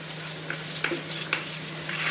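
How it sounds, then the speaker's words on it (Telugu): Fish frying in a little oil in a pan, a steady close sizzle with a low hum underneath and a few light clinks of stirring. "ఇలా పక్కన బాండీలో అదే ఫిష్ని ఒకటి ఫ్రై చేసుకో, కొంచెం ఆయిల్ వేసి ఫిష్ పెట్టాలి"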